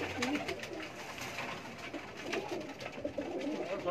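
Rooftop loft of racing pigeons in Sheikhupura, Pakistan, cooing in low, soft, overlapping murmurs against steady outdoor noise, with no talk in between.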